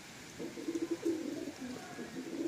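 Pigeons cooing close by, a male bird among them, with a run of soft rhythmic coos and throaty warbles over a quiet background.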